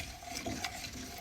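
A sauce seasoned with pepper, chicken cubes and garlic being stirred in a pan, a brief steady swishing with faint sizzling underneath.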